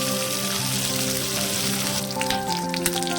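Green chillies frying in hot oil for coconut chutney give a steady, even sizzle throughout, with faint pops and a few soft clinks near the end.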